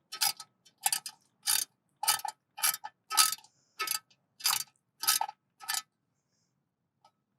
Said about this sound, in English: if you have a ratcheting wrench, it'll make this substantially easier